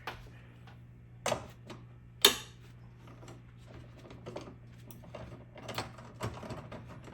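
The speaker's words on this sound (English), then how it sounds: "we're just gonna use a breaker bar and just kind of break it loose here" A breaker bar clicks and ratchets on a 12 mm bolt on an Acura RSX during a strut bar install, a few sharp metallic snaps over a steady low hum, close by.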